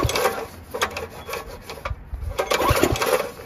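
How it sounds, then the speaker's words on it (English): The recoil starter on a Briggs 6HP Intek engine on a Generac pressure washer left outside for years is pulled slowly again and again, each pull a dry, raspy scraping stroke heard up close. "I need to oil this recoil starter"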